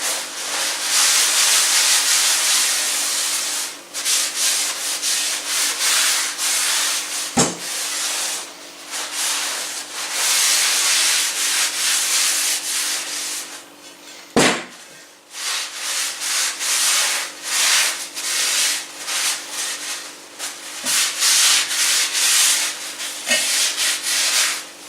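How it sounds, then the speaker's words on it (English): Kitchen towel wiping excess oil from a freshly seasoned cast iron dutch oven, a steady close dry rubbing sound in long continuous strokes, broken by two sharp knocks as the towel or pot shifts. "So now I'm going to take a new kitchen towel."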